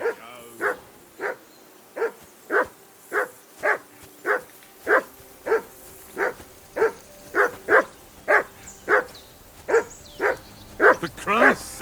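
A dog in a medieval video game barks in a steady run of about twenty evenly spaced, close barks with a whining edge, each one sharp and loud against quiet surroundings.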